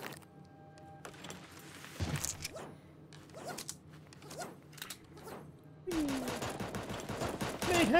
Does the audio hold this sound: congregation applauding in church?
no